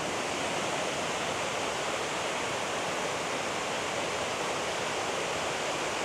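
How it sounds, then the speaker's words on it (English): The waterfall at High Falls State Park, Georgia, thunders in a steady broadband roar, close and loud, running unbroken with no voices. "You get different perspectives of the falls."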